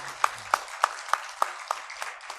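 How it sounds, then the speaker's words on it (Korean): A church congregation at a Sunday worship service claps in unison, about eight evenly spaced, crisp claps in a steady rhythm, fading slightly toward the end. "우리 하나님께 영광의 박수 다시 한번 올리겠습니다"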